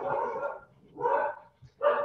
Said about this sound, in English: If you hear dogs barking in the background,